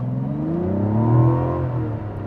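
A 2026 Mazda CX-90 Premium Sport SUV with a turbocharged engine accelerating hard in sport mode, with a steady, rising engine note that swells toward the middle and eases off, heard from inside the cabin with no talking.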